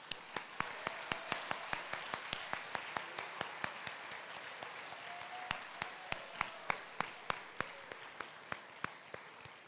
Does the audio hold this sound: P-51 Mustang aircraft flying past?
no